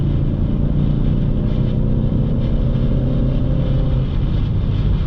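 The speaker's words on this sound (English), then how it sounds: "let's go ahead and get on a little bit on the gas here" A 2021 Ford Mustang EcoBoost pulls at half throttle, its steady engine drone close and constant under loud wind rush for the whole stretch, with no voices.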